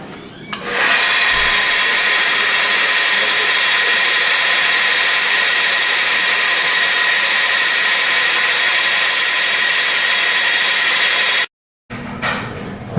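A power polisher fitted with a 400 grit pad works a quartz surface, whirring loud, close and steady for about eleven seconds before cutting out abruptly.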